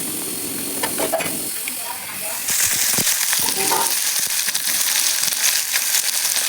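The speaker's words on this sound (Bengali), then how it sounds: "তার সাথে একটু ভাজি রান্না করতেছি" Vegetable bhaji frying in a pan with mixed spices and no added water, a steady broadband sizzle that grows louder partway through, with occasional stirring scrapes close by.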